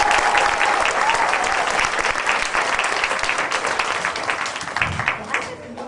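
Audience applause welcoming a speaker at a School Choice Week event in Arizona, with sustained, dense clapping from a large crowd that tapers off toward the end.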